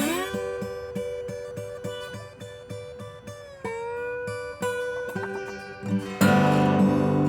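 A guitar plays a slow blues riff: steady picked notes repeating over a bass line, ending in a full open strum that rings out.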